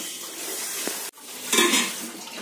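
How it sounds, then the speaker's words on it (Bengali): A metal wok clatters onto a gas stovetop with a brief clank, followed by a brighter scrape and rattle of cookware over a steady background hiss. "কড়াইটা বসিয়ে দিয়েছি, কড়াইটা গরম হয়ে গেছে"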